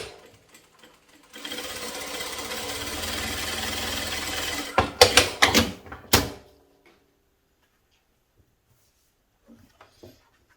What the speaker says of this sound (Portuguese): eu simplesmente colocar o meu tecido aqui e iniciar a costura